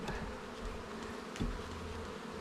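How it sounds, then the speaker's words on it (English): Honeybees from a spring hive holding about five full frames buzz in a steady, dense drone close by, with a brief louder swell midway and no talking. "That is like 5 full frames of bees"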